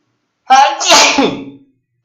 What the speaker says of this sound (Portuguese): Que espirro bom, hein?